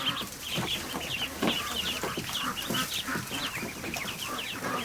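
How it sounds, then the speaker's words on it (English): Young Muscovy ducklings peep and chirp busily in a feeding pen, a dense, faint, continuous chatter of many small birds with no talk over it. "They're so cute, little ducklings."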